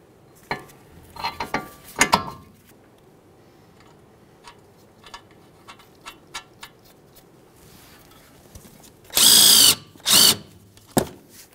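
A power tool spins down the outer tie rod end nut on a Ford Fusion, heard as close, sharp bursts. Scattered ratchety ticks and clinks come in between, then two loud sustained whirring runs near the end, with no speech.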